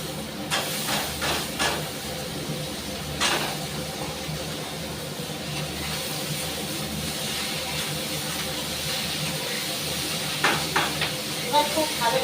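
Potato and beans fry in a hot pan as washed bathua greens are added, giving a steady hiss and sizzle with a few sharper bursts and stirring scrapes, close and fairly loud.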